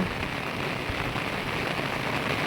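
Continuous rain pouring down in Vikarabad, a dense even hiss of drops hitting surfaces, steady and fairly loud with no voices.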